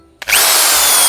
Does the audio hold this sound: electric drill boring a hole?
yes